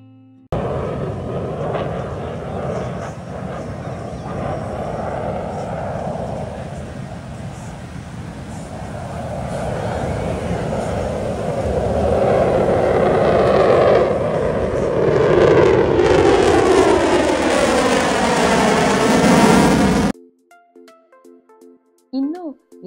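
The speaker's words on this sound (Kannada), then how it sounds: "ಈ 2 ಜೆಟ್ಗಳು ಒಂದರ ಪಕ್ಕ ಒಂದು ಅಷ್ಟು ಕ್ಲೋಸ್ ಡಿಸ್ಟೆನ್ಸ್ ಅಲ್ಲಿ ಸೂಪರ್ ಸ್ಪೀಡ್ ಅಲ್ಲಿ ಹೋಗ್ತಾ ಇತ್ತು" Two jets fly close together at high speed over a Cocoa Beach, Florida air show. Their engines make a loud roar that swells and sweeps in pitch as they pass, then cuts off abruptly.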